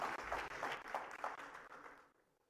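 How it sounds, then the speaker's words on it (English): Brief burst of applause from an audience at an investors' conference opening ceremony, a short run of clapping that fades out quickly into quiet. "Can we give them a nice big round of applause"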